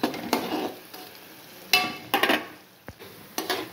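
Onions frying in a pan for chicken pepper garlic, with intermittent scraping stirs over a low, steady sizzle, several sharp clinks and scrapes spaced irregularly, close and moderately loud.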